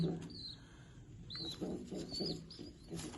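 Domestic pigeon pairs with newly hatched chicks coo in low, soft, repeated bursts, with a few thin bird chirps above them against a quiet outdoor background.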